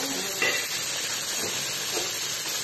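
Fish dropped into hot oil for a tomato fish curry, giving a steady loud hiss and sizzle with faint splattering, close and without talk.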